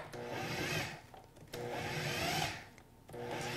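A food processor pulses cold butter chunks into flour toward a coarse-sand texture, giving three loud whirring bursts of roughly a second each separated by short pauses, with no talking.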